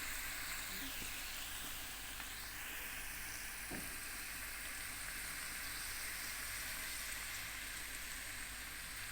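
Chicken pieces fry in a pan in a home kitchen, giving a continuous faint sizzle and hiss of hot oil. The crackling stays steady for the whole stretch, with no talking.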